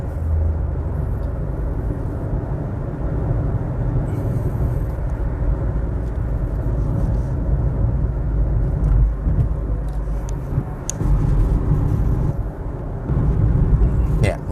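A Mazda CX-5 diesel fitted with an enlarged radiator cruises along, its steady low road and engine rumble filling the cabin while someone talks over it.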